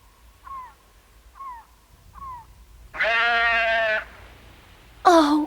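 Goats on a remote island, near a grave, let out one long, loud, wavering bleat and then a short, sharp one, after a few faint chirping calls in the background.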